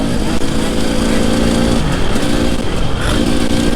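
An enduro motorcycle doing a wheelie, its light engine revving hard and buzzing steadily at close range, loud and continuous with faint voices underneath.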